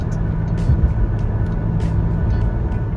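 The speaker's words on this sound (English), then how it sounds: "Just a Bugatti overtake you." A Bugatti overtakes on a Swiss road, heard as a steady, loud rush of road and engine noise with a few brief higher bursts as traffic passes close by.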